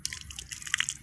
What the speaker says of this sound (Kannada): ಬರ್ತಿದೆ ನೀರು ಬರ್ತಿದೆ